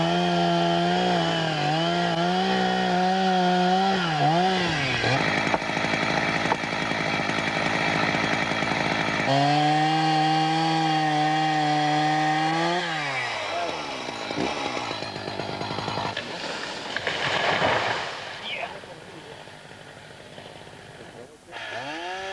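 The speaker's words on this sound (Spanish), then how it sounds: "Son muchos años, muchos anillos en el tronco, los que se vienen abajo con los embates de la sierra." A chainsaw fells a large, many-ringed tree in an Asturian forest, its engine loud and close, revving and bogging in long sustained bursts with pitch swings, then dropping off into cracking and rustling as the trunk comes down.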